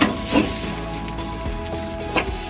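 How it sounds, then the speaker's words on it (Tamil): Stingray varai (thirukkai varai) frying and being stirred in a pan, with a steady close sizzle, faint clinks, and occasional scraping bursts, with no voices. "பாருங்க, ஒன்றோடு சேர்ந்து நல்லா வறுபடுது, நல்ல பூ மாதிரி உதிர்ந்து வருங்க."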